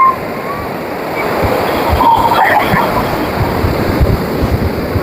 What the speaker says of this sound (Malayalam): കടല് കണ്ടേ